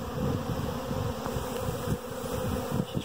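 A honeybee swarm hums in a dense, continuous buzz, close and steady throughout as bees are brushed into a box.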